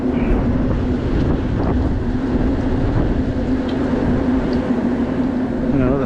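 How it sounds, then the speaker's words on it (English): Wind blowing outdoors during work on a walk-in freezer refrigeration unit, a steady broadband rush with a low hum running throughout, loud and continuous. "That's gonna blow away in the wind though."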